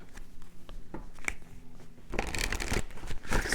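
Tarot cards being shuffled by hand: a soft riffling and sliding, quieter in the first half and then a louder, denser flurry of papery flicks near the end.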